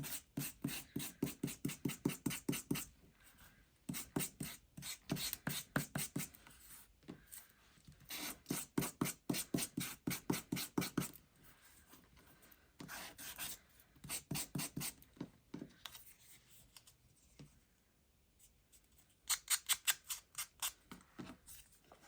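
Sandpaper rubbed across the top edge of a folded paper envelope for a craft junk journal, heard as close, quiet bursts of rapid scratchy strokes separated by short pauses, with no talk.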